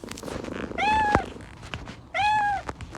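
A cat character in the game Toca Life World meows twice, each call a clear, drawn-out, up-and-down mew, close and loud, with a gap of about a second between them over faint background game sounds.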